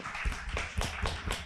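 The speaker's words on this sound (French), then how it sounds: "on peut l'applaudir." A small audience at a French church teaching session claps briefly, a short burst of several distinct hand claps in a modest-sized room.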